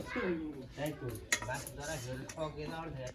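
Pots and utensils clink and scrape while soupy noodles are cooked, with light metallic taps scattered through the clip beneath a person talking.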